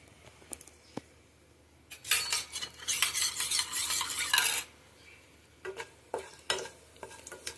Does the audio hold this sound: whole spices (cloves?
yes